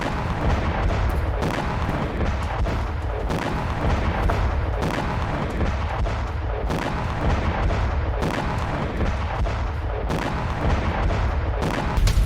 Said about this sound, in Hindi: आधी रात मिसाइलों से हमला हुआ है और हिजबुल्लाह के ठिकानों पर मिसाइल बरसी है।